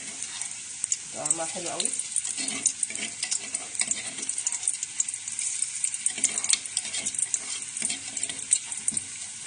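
Garlic frying in a little oil in a pan for moussaka, a steady bright sizzle with stirring scrapes throughout, someone speaking briefly over it near the start.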